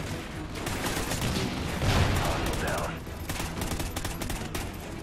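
Rapid gunfire from Call of Duty Ghosts during a campaign mission, sustained bursts crackling continuously for several seconds, loud and close, with a player talking over parts of it.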